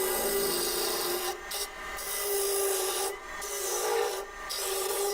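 Wood turning on a lathe, with a steady abrasive rubbing and scraping of the tool against spinning wood, broken by a few brief pauses.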